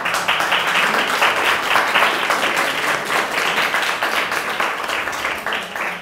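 An audience at a talk on the music market applauds, a dense, steady burst of many hands clapping that holds loud and close for several seconds before easing slightly at the end.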